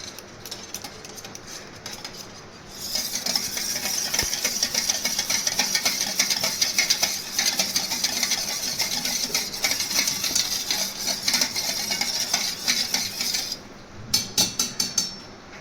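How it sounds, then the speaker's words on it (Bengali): Curd being beaten with salt in a bowl, a steady fast scraping and tapping whisk that runs loud and continuous for most of the stretch after a quieter start, then breaks into a few separate strokes near the end. "নুন মিশিয়ে নেব। ভালো করে ফেটিয়ে নেব।"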